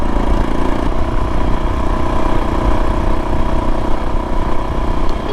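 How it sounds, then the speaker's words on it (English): Suzuki DRZ motorcycle fitted with an FMF PowerBomb header and a 43-tooth rear sprocket, pulling steadily uphill in fifth gear at part throttle; a loud, continuous engine drone close by, with no pauses or talk. "part throttle feels pretty good going up this hill in 5th gear because I don't have a 6"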